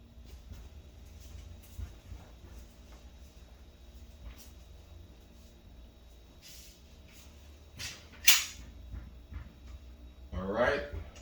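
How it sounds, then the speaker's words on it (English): Umarex SA10 CO2 pellet pistol has its slide racked, then fires: faint handling rustle gives way to a sharp mechanical click-burst, and a second louder crack-like burst arrives near the end, over a low steady background. "Now we'll rack the slide and I'm going to shoot here."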